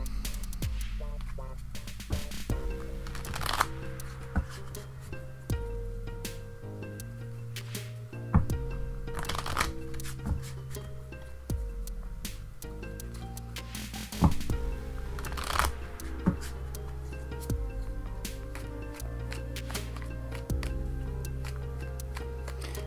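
Tarot cards shuffled by hand, close by, in repeated bursts of riffling and soft slaps with short pauses between them and no voices.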